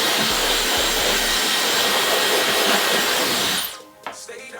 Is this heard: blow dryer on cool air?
yes